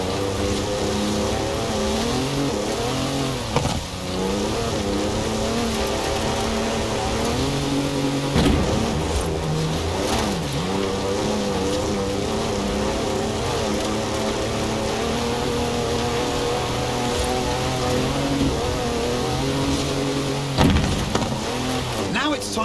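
A powerful 340-horsepower car in Forza Horizon 4 revs and accelerates with a steady, loud engine drone that rises and dips through gear changes, heard over background music with a voice talking throughout.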